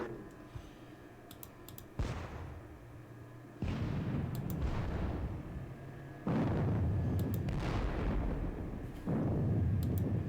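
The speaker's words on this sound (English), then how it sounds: "Some exchanging of fire." Volleys of gunfire in a turn-based Napoleonic war game of the Battle of Bautzen, with four booming musket and cannon bursts spaced a couple of seconds apart, growing louder, and faint mouse clicks between them.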